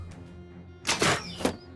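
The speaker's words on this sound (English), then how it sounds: "that's the sound of brothers dying" Mercenary brothers dying in the Battle Brothers video game: a soft thud followed by two loud, harsh bursts of noise in quick succession, heard alone without talk.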